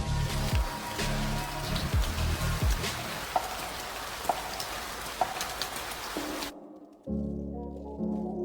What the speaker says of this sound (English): a heavy rain started pouring down.